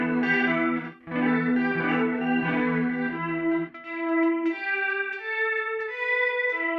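A sustained instrument tone through an Eventide Fission chorus effect shimmers and wavers, thick harmonics drifting and swelling as the notes shift.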